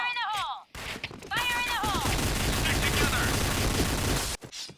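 Rapid, loud gunfire from the shooter game Point Blank rattles in a dense continuous burst, with brief synthetic tones before and after and voices mixed in.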